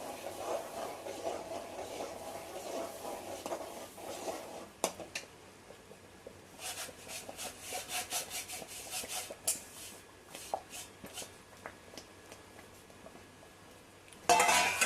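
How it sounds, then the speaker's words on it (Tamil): Rava (semolina) being stirred in a pan for upma: steady scraping and rubbing of a utensil against the pan, louder in the first few seconds, then softer intermittent scrapes with a sharper clatter near the end, no talking. "அடியில் ஒட்டாத அளவுக்கு நல்லா கிண்டணும்."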